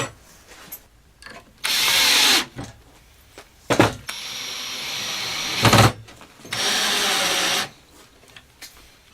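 Power drill driving screws to mount a small European-style cabinet hinge, three loud bursts of whirring separated by short pauses and handling clicks, close up with no talking.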